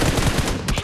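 Rapid bursts of gunfire from a shooting video game rattle in quick succession, close and loud, with no voices.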